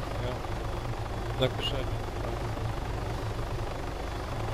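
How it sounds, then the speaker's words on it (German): A helicopter in the video game Arma 3 drones steadily throughout with a constant rotor thrum and engine hum, while someone talks briefly over it in German. "Schieß mal bitte auf den Heli."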